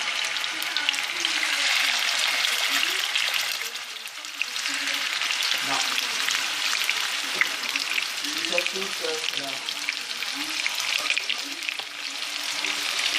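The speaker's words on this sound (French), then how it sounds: "Et voilà, on a retourné les keftés, on attend que ça cuit encore" Beef and mutton keftés fry in a pan with a steady, loud sizzle that fills the whole stretch, with small pops and faint utensil clinks scattered through and a brief dip near the middle.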